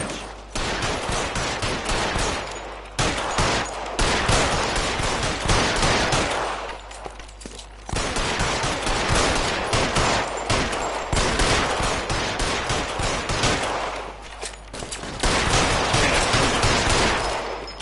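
Heavy gunfire rattles through a shootout in L.A. Noire, dense rapid bursts and volleys of shots continuing loud and close with brief pauses between.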